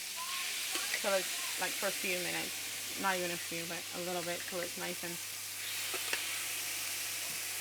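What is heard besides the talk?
shrimp sautéing in a pan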